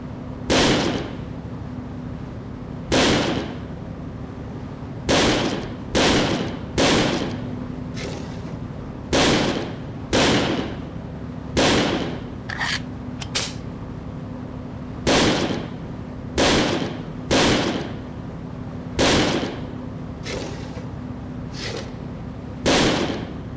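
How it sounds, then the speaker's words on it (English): Gunfire at a shooting range in the video game Second Sight: loud single shots, sometimes in quick pairs, recur at irregular intervals over a low steady background hum. "take this ammo and fire it all into the range"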